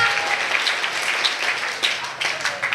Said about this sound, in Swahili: Pigia Bwana Yesu makofi.